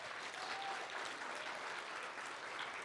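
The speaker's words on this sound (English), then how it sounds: "Let's give them applause." A roomful of people at a company sales event applauds steadily, a dense, even wash of clapping at moderate distance lasting the whole few seconds.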